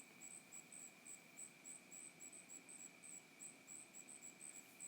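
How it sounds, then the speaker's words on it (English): Steady high-pitched insect chirping repeats in a continuous pulsing rhythm over a quiet night background, with a constant tone humming underneath. "Right now all I hear is the crickets."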